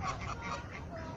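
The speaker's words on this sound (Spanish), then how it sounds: "Este pato se ve enojado." Duck quacking in an aviary at an ecological park in Puebla, a steady run of nasal calls close by over outdoor background noise.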